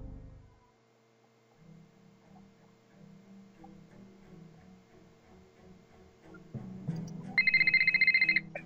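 A telephone rings in the Nancy Drew mystery game The Deadly Device, a bright repeating electronic trill that starts near the end over quiet ticking background music.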